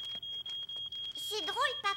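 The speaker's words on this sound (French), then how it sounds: "Mon pain a brûlé et la fumée a déclenché l'alarme." A cartoon smoke alarm, set off by burnt bread, sounds a steady shrill electronic tone in quick repeated pulses, and a voice then talks over it.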